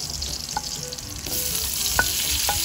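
Onions sizzle in a hot frying pan as duck adobo in coconut milk is cooked, giving a loud, steady frying hiss with a few light clinks and scrapes of a utensil, close and without voices.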